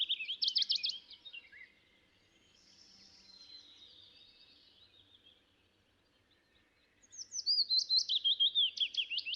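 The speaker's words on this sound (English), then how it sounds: "at first you thrill to hear the willow warbler song" A willow warbler sings a bright, sweet warbling song, a descending phrase repeated twice with a quieter pause between, clear and fairly close against a still background in early spring.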